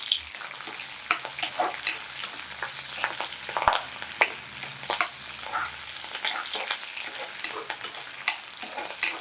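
Garlic and curry leaves frying in hot oil for a pepper rasam tempering, with a steady close sizzle broken by frequent sharp clicks and scrapes of stirring throughout.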